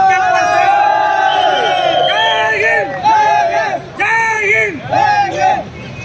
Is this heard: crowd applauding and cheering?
yes